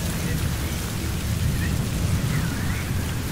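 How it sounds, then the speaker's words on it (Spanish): A storm in the video game Metal Gear Solid 5 brings heavy, steady rain hissing over low rumbling thunder, a dense continuous wash of sound with no pauses. "Ok, la tormenta está acabando, vámonos."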